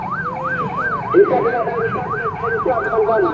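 An ambulance from the NTB regional police medical unit sounds its wailing, steadily oscillating siren during a security simulation for a World Superbike race at the Mandalika circuit in Lombok. The siren is loud and continuous over road and crowd noise.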